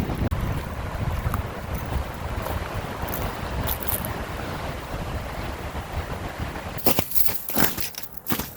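Strong winter wind on the Colorado Trail in Colorado, blowing hard and steadily across the microphone as a dense roar, with louder gusty buffets near the end and no voices.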